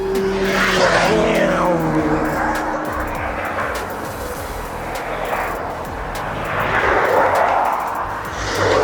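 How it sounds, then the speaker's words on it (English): Road traffic passing on a busy road near Port Pollença, Majorca: several vehicles swell and fade past at close range, with engine drone and tyre roar rising again toward the end, and no talk over it. "Traffic. I hate it."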